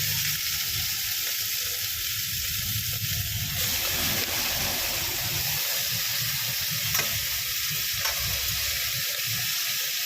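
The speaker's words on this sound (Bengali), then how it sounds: "দেখুন উপর থেকে মটনটা দিয়ে দিলাম।" Mutton lands in a pan of hot oil with salt, and the steady hiss jumps into a louder, rougher sizzle partway through, with occasional scrapes and pops. The sound is close, with no talk.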